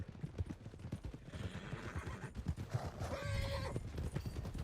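A horse in the Red Dead Redemption 2 video game whinnies loudly near the end while its hooves clop in a steady, close rhythm, with no talking.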